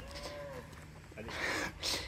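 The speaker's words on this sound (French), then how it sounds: "Les vaches elles font un bruit bizarre ici." Cattle mooing in a village in Laos, a couple of drawn-out lowing calls at moderate distance, with ambient outdoor noise and some talk mixed in.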